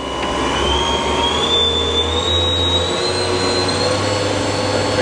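A 2007 Doosan DMV-3016LD vertical machining center with a Cat 40 spindle spins up, a steady high whine that rises in pitch over a low mechanical hum, with no talking.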